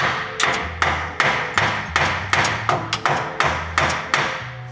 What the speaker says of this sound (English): I'm just hitting it with a hammer.